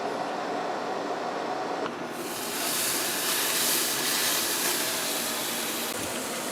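Meat searing on a charcoal grill gives off a steady, broad hiss that grows slightly louder and brighter partway through, continuous and close, with no talking.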